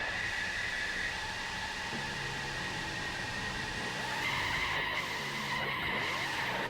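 Opel Calibra in a Gran Turismo 4 replay, a steady droning engine note under continuous tire skidding and squeal, moderately loud and uninterrupted, with no voices.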